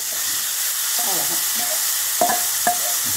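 Lentils spluttering in hot oil in a pan for a Tamil aval puli upma tempering, a soft steady sizzle with a few sharp crackling pops near the end, close and moderately loud.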